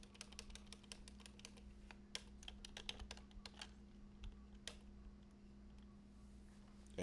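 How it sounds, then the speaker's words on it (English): Typing on a computer keyboard during a shell scripting study session, a steady run of light, quick key clicks over a low constant hum, close and moderately quiet. "We type in shell scripting."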